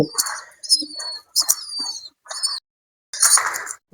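Pigeons and their well-grown chicks in a loft on a winter morning, giving short bursts of chirps, squeaks and calls with quiet gaps between them, close and fairly clear.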